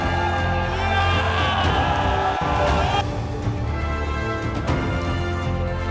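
A crowd cheers and shouts in celebration of India's World Cup cricket win, a dense, steady roar of many voices with whoops rising above the din, loud and continuous throughout.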